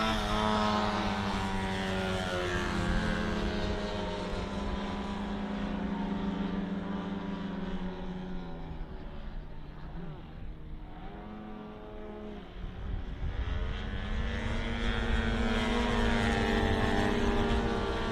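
Model Pitts Special aircraft at an airshow, a loud steady buzzing engine drone with shifting pitch as it passes, dipping slightly in the middle before swelling again, continuous throughout.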